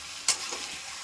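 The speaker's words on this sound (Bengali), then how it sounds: "ভালো করে নাড়তে নেব সবগুলোর সঙ্গে" A spoon scrapes once through cashew paste and sugar being stirred into jackfruit chicken in a pan. It is a single brief, close scuffing stroke over a soft, steady background sizzle.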